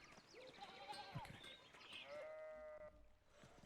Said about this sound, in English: more sheep blocking the way that way